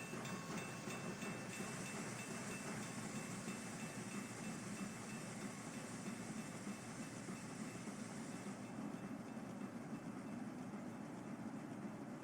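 A train rolls steadily past Blossom Hill Station on the Peninsula Corridor in Train Simulator 2021, a continuous loud rumble and rail roar with faint clattering, lasting throughout without talk.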